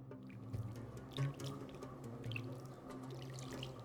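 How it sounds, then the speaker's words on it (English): Water runs and splashes steadily, poured onto steamed couscous, with soft drips and light clinks, fairly close and quiet, no talking. "we will add some water."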